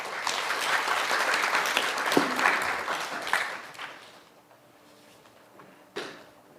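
An audience claps steadily after a lecture at a valve academy seminar, a dense round of applause that fades out after a few seconds, followed by a single sharp knock.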